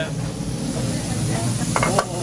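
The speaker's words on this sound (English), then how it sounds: "Now I'm gonna flip my Juicy Lucy burger." Juicy Lucy beef burger sizzling on a hot griddle in a burger shop, a steady crackling hiss with a brief scrape and clatter near the end as the patty is flipped.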